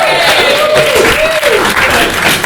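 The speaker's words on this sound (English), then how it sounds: "give it a round of applause for the" A theatre audience at a Glasgow improv comedy show bursts into loud, sustained clapping, with a voice whooping or calling out over the dense applause.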